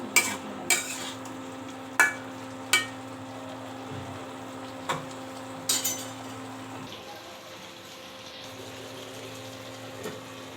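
Fish being stirred and sautéed in a pan at home, with sharp intermittent scrapes and clinks of a utensil against the pan over a steady low hum, busiest early and then trailing off.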